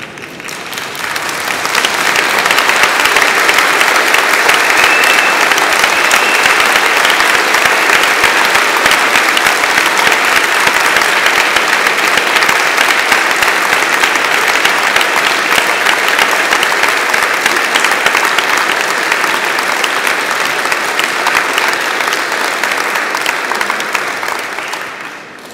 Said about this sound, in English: give them a round of applause for all the help they've given you